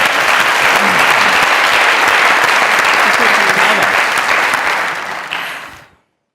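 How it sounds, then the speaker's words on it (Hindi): Studio audience applause on a comedy talk show, loud and dense clapping that swells steadily, then fades out and stops near the end. "प्लीज प्लीज, हमें बहुत सारी तालियां।"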